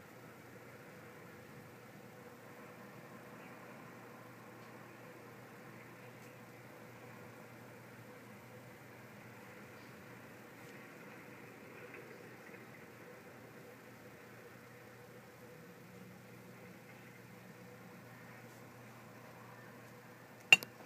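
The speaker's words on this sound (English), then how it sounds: "The noise you hear is the wind." Blizzard wind during a Rhode Island snowstorm, a faint steady broadband rush with no gusting peaks, ending with a brief sharp knock.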